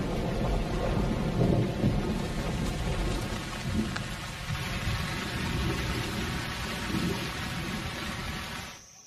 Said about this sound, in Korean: 멀리에서 여름 비가 내리기 시작했습니다.